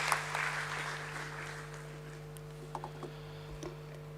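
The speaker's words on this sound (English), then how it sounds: "Can we have a huge round of applause to please help me welcome Mr." An audience at the BSE listing ceremony for Allcargo Terminals and Transindia Real Estate applauds to welcome Mr. Girish Joshi. The clapping is fairly faint and fades over the first second or two, leaving a quiet hall with a few scattered ticks.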